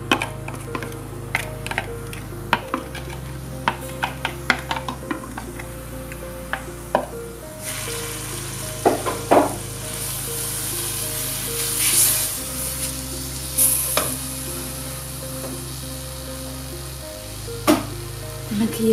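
Food fries in a little olive oil in a cooking pot, a steady sizzle with crackling pops throughout, broken by sharp clatter and utensil knocks, close by and with no talking.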